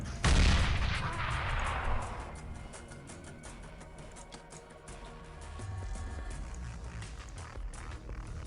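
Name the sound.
weapons firing in video game Xpiratez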